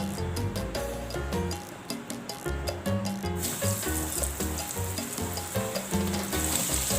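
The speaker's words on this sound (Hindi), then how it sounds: "आप इसकी क्रिस्पी आवाज़ सुन सकते हैं।" Homemade French fries sizzle steadily in hot oil, a dense crackling fry that continues throughout with no talking.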